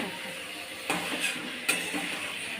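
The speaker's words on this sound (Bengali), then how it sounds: "দেখো বন্ধুরা এবারে আলু বেগুন দিয়ে দিয়েছি, দেখো সুন্দর করে কষিয়ে নিচ্ছে" Potatoes and aubergine sauté in a pan on a Bengali home stove, a soft steady sizzle broken by a couple of brief scraping stirs, heard up close with no talk.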